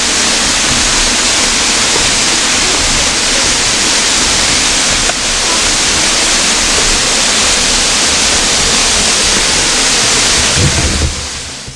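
Water from a natural spring rushes loudly and steadily, a dense broadband roar close to the microphone that never lets up, with a faint low rumble just before it cuts off at the end.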